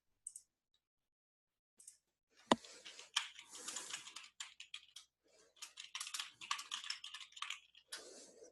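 Typing on a computer keyboard comes in quick irregular bursts of close clicks, with short pauses between runs of keystrokes and no talking.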